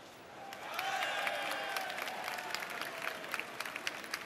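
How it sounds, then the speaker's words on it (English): An arena crowd at the Eurovision Song Contest 2010 Grand Final breaks into applause during the vote results, swelling to a broad steady wash with scattered louder claps, heard at a distance with no talk. "I hear some applause."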